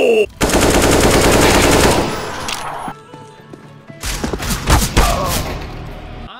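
AK rifle gunfire in the video game Counter-Strike: long loud bursts of rapid automatic shots, then a pause, then more clustered shots and impacts, close and dominant.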